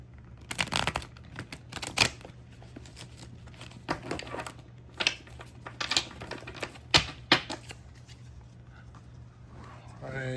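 Tarot cards riffled and slapped together in quick bursts of crisp clicking and papery rustle, repeating several times, with a voice talking beneath.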